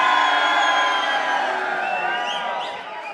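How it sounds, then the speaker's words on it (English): Live audience at a rugby Lions v Australia preview show in Sydney cheering and whooping loudly, a sustained dense crowd roar with scattered shouts that tapers slightly toward the end. "And if you think Finn Russell should be our Maverick,"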